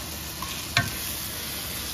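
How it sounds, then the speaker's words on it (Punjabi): Tadka tempering for paneer bhurji sizzling in a pan, a dense constant close sizzle with one brief sharp clink partway through. "ਤੜਕਾ ਲੱਗ ਰਿਹਾ"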